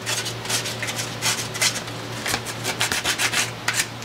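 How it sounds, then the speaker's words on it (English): Sandpaper folded at a corner rubs into each tooth of a part by hand, a run of repeated close scratchy strokes with short pauses and a faint steady hum underneath. "you go into each tooth. And you sand them clean"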